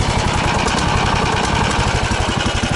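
Engine already running after starting, a steady close rapid chugging idle with an even mechanical pulse and no pauses, loud and alone without talk.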